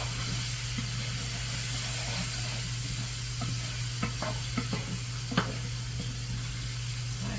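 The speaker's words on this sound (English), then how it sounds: "We're going to stir that in well." Chilies sizzle in a pot for a simple one-pot chicken almondine dinner, giving a steady hiss and frying crackle with a low hum beneath and a few scattered scrapes and taps of stirring.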